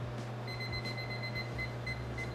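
A kitchen timer beeps in short, evenly spaced pairs of high tones while cookies bake, faint over a steady hum of room noise.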